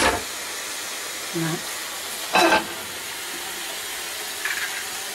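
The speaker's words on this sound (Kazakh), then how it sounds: "Етіміз қуырып жатыр." Beef sizzles steadily in a hot pan for a stroganoff, a continuous close hiss with occasional brief stirring scrapes and bumps.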